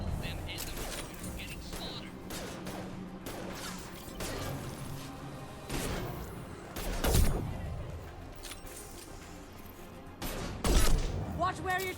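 Gunfire in the video game Mass Effect 2, rapid bursts and cracking shots with heavier blasts scattered through a busy battle, under frequent voices talking.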